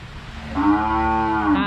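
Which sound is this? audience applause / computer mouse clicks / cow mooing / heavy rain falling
cow mooing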